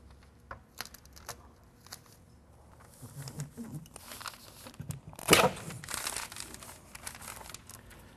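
House wrap flap being taped at a door opening for a brick mold door unit, with intermittent crinkling and rustling of wrap and tape, a sharp tearing burst in the middle, and faint talk nearby.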